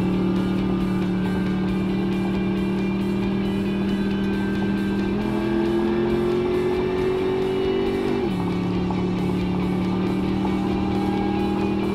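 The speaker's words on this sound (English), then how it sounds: "It accelerates smooth shifting, got a lot of performance." A twin-turbo Toyota Land Cruiser SUV on a land speed record run accelerates hard at about 165 mph, a loud sustained engine drone rising in pitch with gear shifts around five and eight seconds, heard from inside the cabin.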